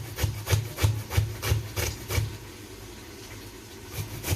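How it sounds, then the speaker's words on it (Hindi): Ginger being crushed while cooking a turnip and meat curry: a series of rhythmic, close pounding thuds with a gritty rasp, about eight strikes in quick succession, then quieter. "जी तो गाइस हम अदरक को थोड़ा सा क्रश करेंगे"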